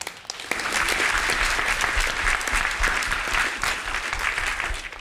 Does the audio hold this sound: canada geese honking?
no